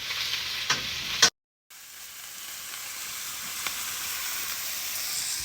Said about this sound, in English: you can see the veggies are charring up nicely